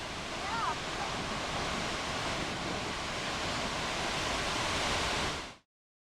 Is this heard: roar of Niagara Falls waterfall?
yes